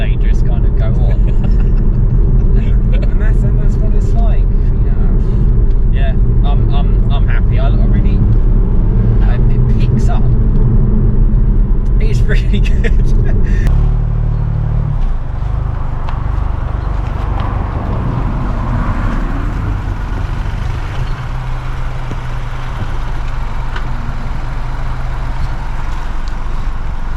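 A 2023 Ford Puma ST with a 1.5 Ecoboost engine is being driven. A steady low engine and road rumble continues from inside the car, mostly under people talking, with the tone shifting partway through.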